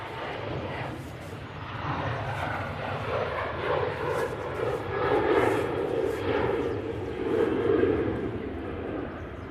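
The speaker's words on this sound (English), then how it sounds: "we do have this KLM now departing off runway 23 right" KLM airliner departing from runway 23R at Manchester Airport, a steady broad jet roar that swells and holds from a distance, with no talking over it.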